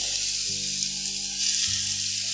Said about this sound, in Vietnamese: Dầu nóng lên thì mình sẽ cho 1 muỗng canh tỏi với hành tím băm nhuyễn vào.